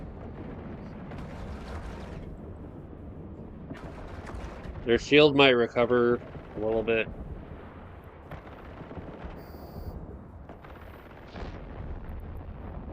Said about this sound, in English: let's select light missile launcher and light prototype automatic cannon